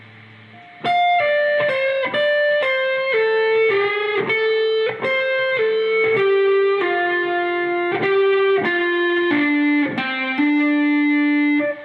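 Distorted electric guitar plays a passage all together, a run of roughly fifteen picked and hammered notes in a steady, moderately paced line, loud and unaccompanied with no speech.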